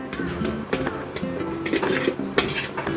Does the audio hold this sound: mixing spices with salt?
yes